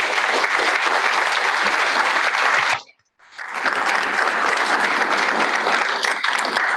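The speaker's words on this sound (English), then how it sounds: "Help me give a big round of applause for Chris Nikic." A speaker-series audience gives loud, sustained applause, a dense roar of clapping that drops almost to silence for a moment before surging back just as strongly.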